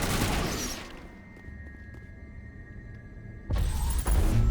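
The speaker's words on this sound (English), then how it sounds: "Explosions." Mass Effect game explosions: a dense burst of blasts and gunfire-like crackle opens, fades to a low rumble with a steady tone, then a loud new eruption of booms closes.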